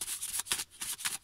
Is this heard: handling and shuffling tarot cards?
yes